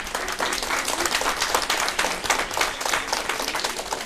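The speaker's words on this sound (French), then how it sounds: "Le public applaudit." A school Christmas show audience claps and applauds, a dense steady patter of many hands at close range for a few seconds.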